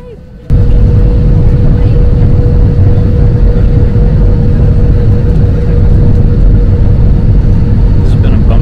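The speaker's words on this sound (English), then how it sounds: "Getting ready to take off, heading to Puerto." Loud, steady roar of an airplane engine at takeoff, a continuous rumble with a faint whine on top, starting abruptly after a brief quieter moment and holding for several seconds.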